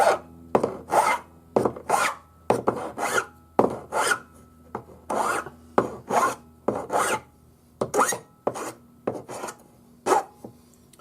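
A metal file rasps across the ends of a handmade bracelet in about a dozen short, rhythmic strokes, each a distinct scrape separated by brief pauses, close and clear.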